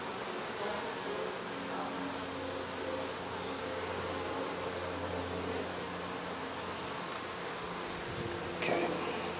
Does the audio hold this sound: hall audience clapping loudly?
no